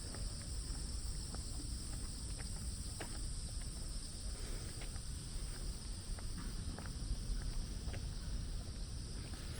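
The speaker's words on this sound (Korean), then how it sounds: "귀뚜라미 소리도 들리고 멀리서 매미 소리도 들리고" Crickets chirp steadily across a park on an early autumn morning, with cicadas droning faintly in the distance; a continuous, even insect texture with light wind and no talking.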